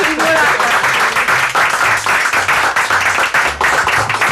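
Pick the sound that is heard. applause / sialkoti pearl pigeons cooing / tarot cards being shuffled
applause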